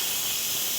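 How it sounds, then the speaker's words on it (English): Steam vents from an electric pressure cooker as a loud, continuous, close hiss that holds steady without a break. "There will be some steam, so we are just going to release the steam,"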